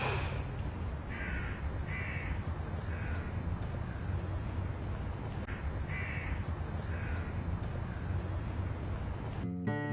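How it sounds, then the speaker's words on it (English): A crow caws in the distance in a quiet park film scene, a few separate calls spaced across the clip over a steady low ambient hum, with no talking. "sitting in the park, a crow rings in the distance, and Michael turns his head"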